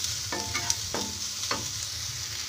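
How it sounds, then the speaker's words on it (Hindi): Garam masala and coriander powder roast in a pan with a soft steady sizzle, broken by three distinct scraping stirs of a spoon at regular intervals. "और इन मसालों को भी थोड़ा सा 1 मिनट तक ऐसे भून लेंगे हम।"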